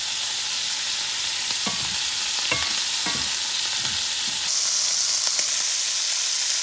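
Shrimp sizzling steadily in a hot frying pan while being turned over, a bright continuous hiss with several soft scraping knocks as they are flipped, close and alone with no voices.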